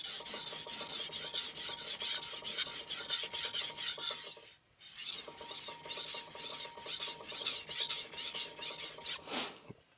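A Victorinox R.H. Forschner hard stainless chef knife is stroked across a King NEO 800 whetstone with light pressure, giving close, loud rhythmic rasping scrapes in repeated passes, with one brief pause near the middle.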